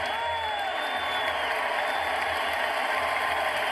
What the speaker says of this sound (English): Crowd in Perth. A sellout at the RAC Arena